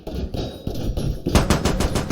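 Loud rapid bursts of automatic gunfire in the video game Squad, rattling in quick succession and growing heavier toward the end.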